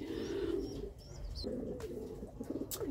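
Pigeons coo in low, throaty rolling calls, close and repeated, with small rustling sounds between them.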